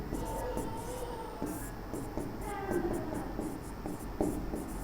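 Chalk or a marker scratches and squeaks across a board during a Class 10 physics lesson on spherical mirrors, giving steady faint strokes and small taps under a constant background hum.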